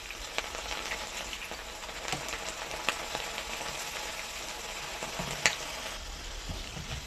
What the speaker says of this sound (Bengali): এখন আমি বুটের ডালটা ভেজে নেব। এইভাবে আমি উল্টিয়ে পাল্টিয়ে ভেজে নেব।